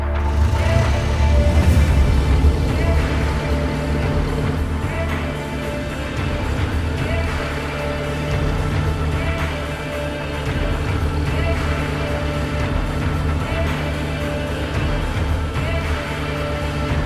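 A Bentley Blower vintage racing car runs on closed roads, its engine a continuous loud rumbling drone with steady road and wind noise throughout.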